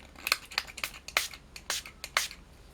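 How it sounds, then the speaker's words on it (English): Short sharp bursts of isopropanol spray hit cassette tape heads inside a ZX Spectrum +2a computer being cleaned, about seven quick close hisses in an uneven rhythm, with no talking. "isopropanol spray, Q-tip,"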